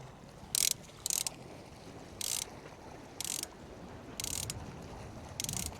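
A fishing reel's ratchet buzzes in short bursts as strong current pulls line out while fishing off Sker rocks, Porthcawl; six brief clicking runs sit over faint wind, with no talking.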